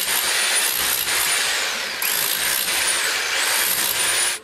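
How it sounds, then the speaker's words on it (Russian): Rotary hammers drill during renovation of a children's hospital, a loud, harsh, continuous grinding whine that dips briefly around the midpoint and cuts off at the end. "в другом конце коридора в это время настойчиво жужжат перфораторы."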